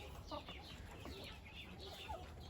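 Chickens and a rooster cluck and call in a farmyard coop, several birds overlapping in short bursts against a steady background murmur, fairly faint and close.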